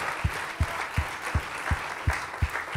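A small church congregation claps together in a steady, even rhythm, about three claps per second, fairly close and without voices.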